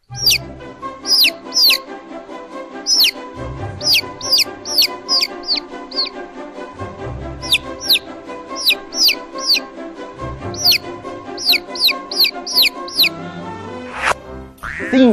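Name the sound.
chickens clucking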